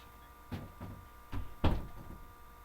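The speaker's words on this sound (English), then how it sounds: "Sorry, y'all, if y'all heard my door." A bedroom door opens as someone enters, giving a few soft wooden knocks and bumps followed by a louder thud of the door moving, over a steady low hum in an otherwise quiet room.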